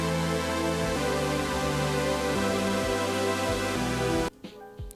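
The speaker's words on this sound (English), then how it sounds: "It's also Serum, and it's hyper saw layered." A thick, layered hyper saw synth patch from Serum plays a drum and bass chord progression, with loud sustained chords that shift roughly every second and then stop abruptly, leaving a faint tail.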